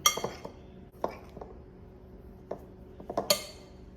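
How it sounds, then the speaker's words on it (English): Texas sheet cake batter stirred in a bowl, with a utensil clinking and tapping against the sides in scattered bursts, close and moderately loud, with faint talk in the background. "So I'm just mixing it all around."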